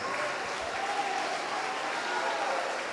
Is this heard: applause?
yes